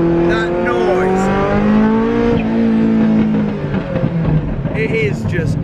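Ferrari F40 engine accelerating on a roundabout, a loud close-up drone that rises and falls in pitch, with people talking over it.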